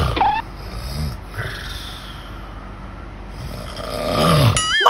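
A person snores loudly and harshly, in the way of someone who may stop breathing during sleep. The rasping breaths come in a few ragged bursts, close by, with no one talking.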